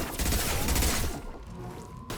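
Rapid gunfire from weapons loaded with cryo ammo in the video game Mass Effect Legendary Edition, a dense burst of shots for about a second that then fades into quieter game sounds.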